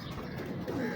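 Pigeons cooing softly in a breeder's loft, low throaty calls close by over a steady murmur of background noise.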